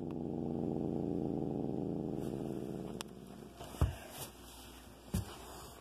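A domestic cat gives a low, continuous rumbling growl for about three seconds, then falls quiet apart from a few soft thumps and rustles nearby.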